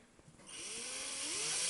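A power drill bores irrigation holes into the bottom of a plastic plant bucket, a whining, rising grind that starts after a few light knocks and grows steadily louder at close range.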